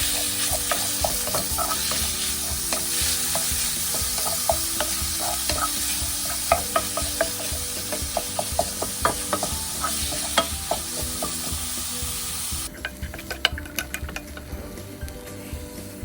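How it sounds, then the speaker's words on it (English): Meat sauteing in cooking oil in a frying pan, a steady sizzle broken by frequent clinks and scrapes of stirring, close and fairly loud, softer toward the end. "add some cooking oil, and we're gonna saute meat first"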